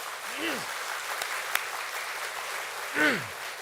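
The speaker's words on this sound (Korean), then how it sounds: "박수로 한번 격려해 주세요" Church congregation applauding new baptized and confirmed members during a Sunday worship service, a soft, steady wash of clapping spread across a large room, with faint voices rising briefly over it.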